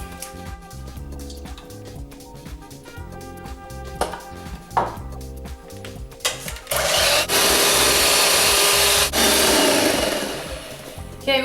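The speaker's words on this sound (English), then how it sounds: "I'm going to start whisking my egg whites" Egg whites being whisked in a bowl with an electric mixer for a lemon souffle, a steady mechanical whirr with clicking that swells into a loud, sustained buzz midway, close and alone.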